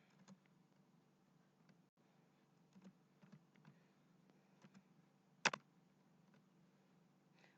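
Light typing on a computer keyboard while working in Excel, scattered soft key clicks in short bursts with one sharper tap, faint over a quiet background hum.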